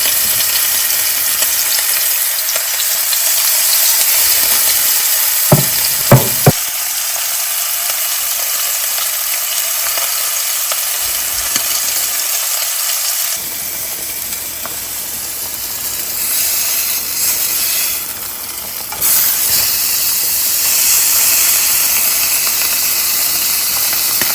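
Seasoned fish fillets sizzle in olive oil in a frying pan over medium-high heat, giving a loud, steady crackling hiss with brief clinks from the pan and no talking.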